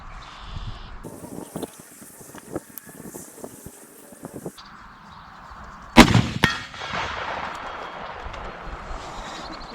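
A single loud rifle gunshot cracks out partway through while a rifle is sighted in outdoors, preceded by wind buffeting, handling rustle and scattered knocks, with a reverberant tail afterward.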